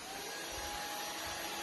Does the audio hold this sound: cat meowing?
no